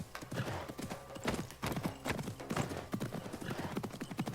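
A horse gallops steadily in Assassin's Creed Mirage, hooves clip-clopping in a quick, regular rhythm close by, with a brief whinny and faint background game ambience.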